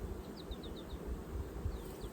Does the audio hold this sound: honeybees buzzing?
yes